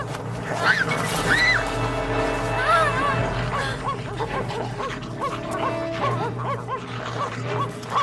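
Sled dogs barking and yipping in an excited jumble, mixed with urgent shouting voices over a steady low rumble, as wolves follow.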